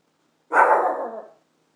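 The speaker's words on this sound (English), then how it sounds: "My dog's barking." A single loud, close dog bark, one short harsh burst lasting under a second, alone against silence indoors.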